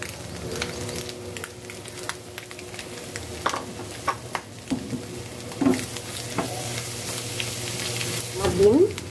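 Egg frying in a pan with chopped coriander leaves makes a continuous crackling sizzle, broken by scattered scrapes and clinks of stirring, with no talk.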